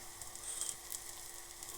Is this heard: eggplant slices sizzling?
yes